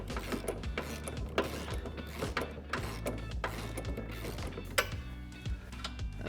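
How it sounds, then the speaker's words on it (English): Ratchet tightening a bolt to seat a BMR IRS subframe support brace on a 2015-2023 Ford Mustang, giving rapid, steady mechanical clicking with repeated short strokes and a low background drone, close up and with no talking. "we're just going to start tightening the bolt down just to get it seated."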